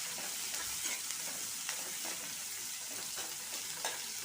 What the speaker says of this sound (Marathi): खडे मसाले व्यवस्थित फ्राय झाल्यावर त्यामध्ये मी कांदा टाकून घेत आहे.